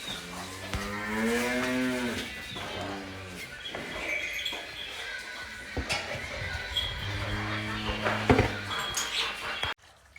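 Several cows moo in long, drawn-out calls, one after another, close by while being watered, with a dog barking briefly amid the lowing.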